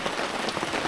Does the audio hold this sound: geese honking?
no